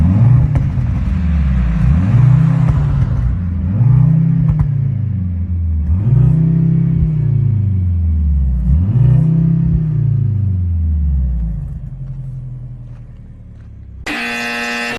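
A Mercedes-AMG C63 W206 with an inline-four engine revs loudly four times in an even rhythm, each rev rising and falling, then idles down before a brief high tone at the end.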